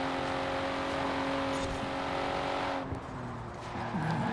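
Car engine in the Forza Horizon 4 racing game holds a steady, loud drone with a sustained tonal whine throughout, the pitch shifting slightly near the end, with no talk over it.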